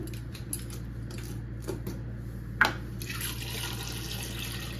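Water is poured into a pressure cooker holding chana dal lentils and potatoes, a quiet close trickle with a brief splash near the middle, then a steadier pouring hiss to the end.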